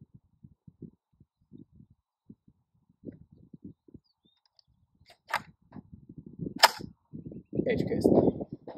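A .300 Win Mag rifle fired into a stack of books: scattered small clicks and handling noises, then a couple of sharp, bright reports near the end, followed by a burst of rustling.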